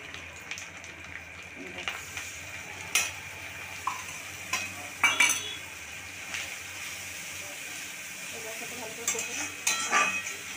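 Turmeric, chilli and cumin masala mixed with water, stir-fried in a pan before goat meat goes in, giving a low steady sizzle with scattered scrapes and clinks of a spoon against the pan.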